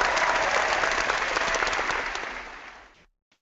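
A dense wash of audience applause at a religious talk, loud and steady before fading out near the end, with no voices over it.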